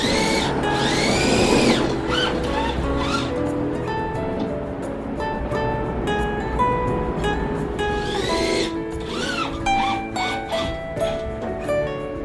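A power drill drives 51 mm screws and screw hooks into a new tool-storage wall in a workshop, with repeated whirring bursts of rising and falling motor pitch, close and fairly loud.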